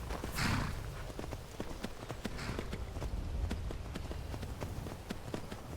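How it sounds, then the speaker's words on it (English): Horse hooves clip-clopping in modded Skyrim as the horse paces back and forth, a steady run of light repeated hoof clops with a brief snort or whinny near the start. "My horse is just on one of them, pacing backwards and forwards."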